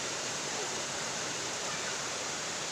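Kafla Falls waterfall in Maasim, Sarangani Province, pours in a dense, unbroken roar of rushing water, loud and close, filling the whole stretch without pause.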